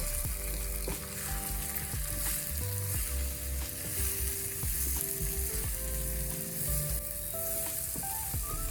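Brinjal with pepper powder and a little masala powder is stirred in a frying pan, giving a steady, close sizzle with repeated scraping strokes throughout and no voices.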